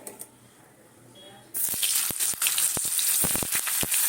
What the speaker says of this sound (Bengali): দেখো আলুটা হয়ে গেছে আলু তুলে নিয়েছি ওই তেলেই দেবো ফুলকপি